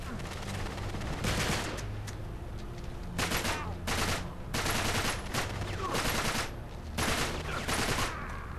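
Gunfire in the video game Uncharted 3 comes in repeated loud bursts of rapid shots separated by short lulls, with a voice faintly audible underneath.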